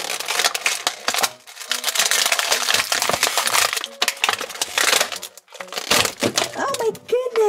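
Grossery Gang Corny Chips toy pack being opened from the top, holding blind milk crates: dense plastic crinkling, crushing and snapping, loud and close, with brief pauses and a voice speaking over it.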